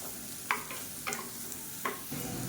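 Mashed raw banana crisps in hot oil, giving a soft continuous sizzle broken by a few sharp spatter pops and stirring clicks.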